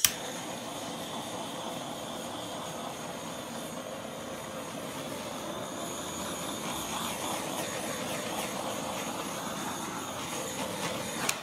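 A hair dryer blows a steady, loud whooshing drone as it dries metallic paint on a black base, running continuously with no talk.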